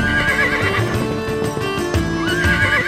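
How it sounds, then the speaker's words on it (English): A horse in an equestrian program at Rohitgarh near Jodhpur whinnies in a loud, drawn-out, quavering call, with hoof clip-clops nearby and no talking. "rode some horses on their equestrian program"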